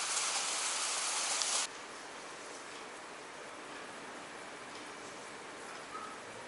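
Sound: heavy rain

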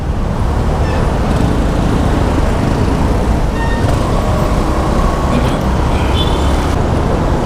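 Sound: road traffic noise from inside a car

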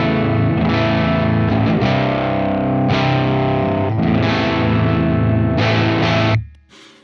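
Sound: clean signal of Squier Jazzmaster guitar tuned to A standard

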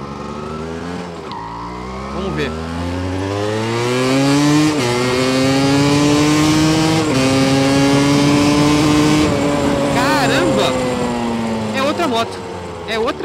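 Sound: motorcycle engine revving

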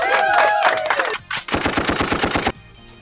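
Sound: machine gun gunfire sound effect from a phone app

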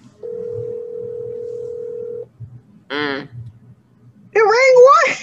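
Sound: telephone ringing on an outgoing call

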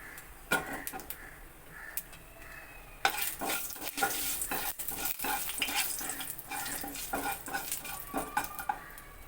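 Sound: nigella seeds tempering in hot oil

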